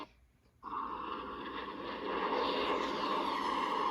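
Aircraft engines roar overhead during an aerial battle in the video game Ace Combat 6, a sudden loud onset after a brief quiet that swells into a steady, dense jet drone.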